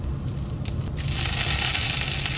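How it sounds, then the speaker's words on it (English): Oil crackles and hisses steadily as mustard seeds, cumin seeds, curry leaves and red chilies hit a hot pan, the sizzle growing louder and denser after a moment, with no voices. "In a pan, I heat some oil. Then I add mustard seed, cumin seeds, curry leaves, and red chilies."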